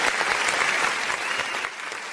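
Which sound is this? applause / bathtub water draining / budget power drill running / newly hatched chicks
applause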